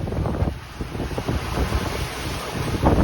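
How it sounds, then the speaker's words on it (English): Seawater washes over the deck of a sailboat under sail in gusty wind, heard as rumbling surges and splashes under heavy wind buffeting on the microphone, with a loud surge at the end. "We're getting a lot of water coming over here"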